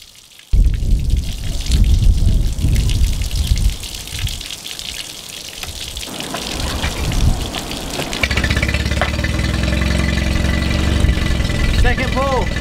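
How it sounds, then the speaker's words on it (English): A jon boat outboard motor fires up and settles into a rough, steady idle beside gushing water, loud and close throughout. "So let's go start the water and then we'll start the motor."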